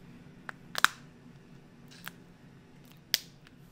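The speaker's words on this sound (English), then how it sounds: "So we're just using the tips of the scissors to cut all the way down the shell." Scissor tips snipping down the shell of a lobster tail, giving a few sharp, crisp clicks and snaps spaced unevenly over a few seconds, close and fairly loud against a quiet background.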